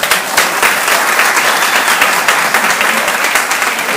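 Loud, continuous applause from an audience welcoming a mayoral candidate for Cataca at a political rally, with dense clapping throughout and a faint crowd murmur underneath.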